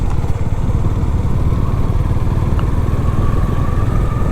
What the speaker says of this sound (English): I'm going to shut up and let you hear the sound of the bike.